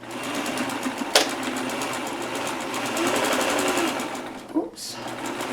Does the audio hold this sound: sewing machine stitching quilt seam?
yes